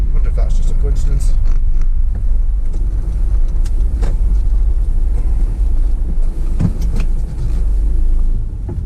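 A car drives steadily with a loud low engine and road rumble and some wind buffeting on the microphone, while someone talks over it.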